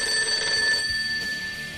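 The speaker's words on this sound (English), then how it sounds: "Oh, hang on, there's a phone call." A telephone rings with a bright electronic trill, one loud burst that stops abruptly and then trails off, heard alone with no voices.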